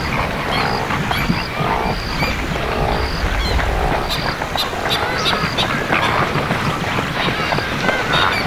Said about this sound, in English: Pelicans are some of the biggest birds in Ndumo and flock to the lake following the rains.